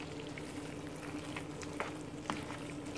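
Shrimp stirred in a pan with butter, a soft, steady sizzle and bubbling with a few faint clicks of the utensil, close and fairly quiet.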